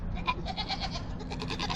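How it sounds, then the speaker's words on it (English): A farm goat named Piper bleats in a quick series of wavering cries, close and fairly loud, over a low background rumble. "This goat right here is Piper"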